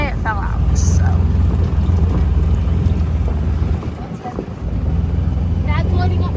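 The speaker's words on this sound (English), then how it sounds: "There's his tractor loading up more and more hay." A farm tractor loading hay on a winter morning rumbles low and steady close by, its engine drone buffeted by wind noise, dipping briefly midway before resuming.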